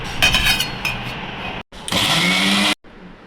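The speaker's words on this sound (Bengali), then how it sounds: "পাটাতে করলে বেশি ভালো কিন্তু আমি ব্লান্ডার জারেই করি" A blender jar grinds a mash of pointed gourd peel with fried onion, garlic, dried red chilies and salt in two loud whirring bursts separated by a short pause.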